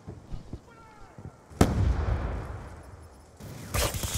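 A frag grenade explodes in Black Ops 2 multiplayer hardpoint play on the Plaza map, a sudden loud blast that decays into rumble, followed by more gunfire and explosive bursts after light scattered sounds.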